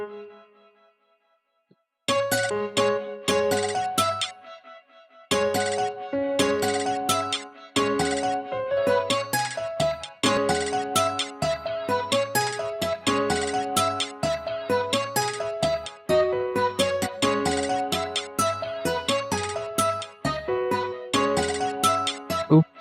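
Chords played on a synth in FL Studio over a beat: bright, bell-like chord stabs in a repeating rhythmic pattern with percussion, starting after a brief quiet intro and continuing steadily.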